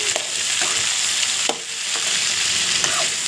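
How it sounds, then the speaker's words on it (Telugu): Sliced ivy gourd frying in a pan with turmeric, salt and curry leaves, a steady loud sizzle broken by several scraping stirs of the spoon, with no talk. "వీటిని బాగా వేగనివ్వాలి"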